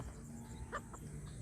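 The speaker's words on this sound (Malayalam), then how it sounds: "ഇരുന്നൂറ്റി അമ്പതോളം കോഴികൾ ഇവിടെ ഉണ്ട്" A few faint, brief clucks from a flock of about 250 chickens rise over a low background hum, somewhat distant and quiet.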